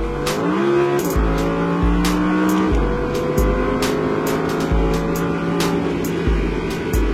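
An Audi R8 RWS engine revs hard and accelerates repeatedly on the Le Castellet race track, pitch climbing then dropping at each gear change, loud and close throughout with a steady roar.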